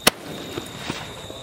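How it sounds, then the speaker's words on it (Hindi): A Cock brand automatic sky-shot rocket firecracker launches during Diwali cracker testing outdoors, with one sharp, loud bang followed by a few faint, scattered pops. "कुछ इस प्रकार से जला है ऑटोमेटिक रॉकेट"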